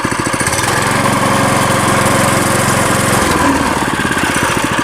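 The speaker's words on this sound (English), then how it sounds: "But if I rev it up," A Trailmaster MB200x mini bike's small engine runs loud and close with a rapid buzzing putter that steadies into a sustained drone, then shifts in pitch partway through as the throttle changes.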